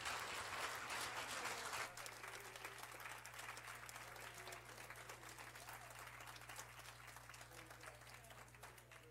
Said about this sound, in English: Give him a hand clap of praise one more time.